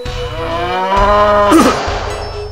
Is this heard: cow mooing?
yes